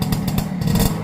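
A classic 1970s Yamaha RS two-stroke motorcycle engine revs loudly with rhythmic pulsing bursts and mechanical clatter, close by and continuous.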